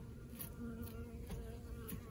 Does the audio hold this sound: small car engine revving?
no